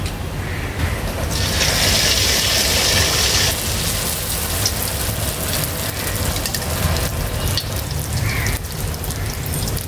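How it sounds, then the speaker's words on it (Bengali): Rice flour puya pitha with date palm jaggery sizzling as it fries in hot oil, a steady dense crackle and hiss that holds level throughout with no voices. "আমি সবগুলা পিঠা এভাবে ভেজে নেব"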